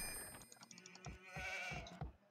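Sheep bleating in the strategy game Age of Empires II, a few short repeated bleats with chiming game effects layered over a steady background.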